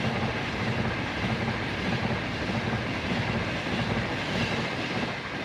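A Pendolino train runs past on the up fast line at Leyland station with a continuous, loud, broad rushing roar and a faint rhythmic wheel clatter. It is close and steady with no voices.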